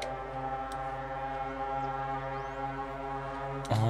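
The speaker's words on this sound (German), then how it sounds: "Ist das das Gehupe wegen dem Wind?" A warning horn about wind in The Universim city-building game drones as one low, steady, sustained honk, with a brief louder swell just before the end.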